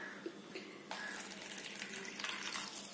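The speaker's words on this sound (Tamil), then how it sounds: "தண்ணி ஊத்தி ஊற வச்சுக்கோங்க." Water poured from a tap into a vessel to soak tamarind, a continuous close splashing stream starting softly and then running steadily, with no speech.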